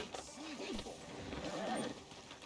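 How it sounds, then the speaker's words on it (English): A horse in the video game Red Dead Redemption 2 gives a faint wavering neigh, with soft snorting over a muffled background of game ambience and low voices. "Can you grab Anders off your horse and carry him in for me"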